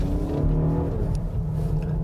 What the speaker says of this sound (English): it's got a good exhaust sound, but the most important of all, it just accelerates with good energy and passion